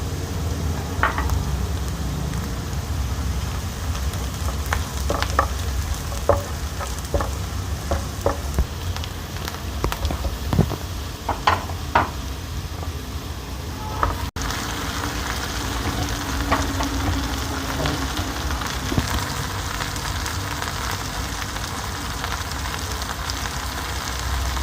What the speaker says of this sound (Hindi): सात से आठ हमने साबुत मिर्च डाली इसमें, और 1 चमचा हमने इसमें ज़ीरा डाल दिया